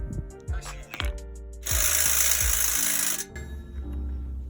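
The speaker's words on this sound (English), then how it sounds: "our impact wrench and see what happens" An impact wrench fitted with a deep socket hammers on a flex disk bolt of a BMW E90 in one loud, close burst of about a second and a half, with clanking tool knocks before and after it.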